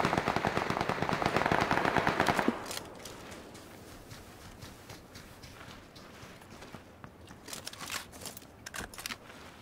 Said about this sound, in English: I heard shooting, so then they might be against each other still.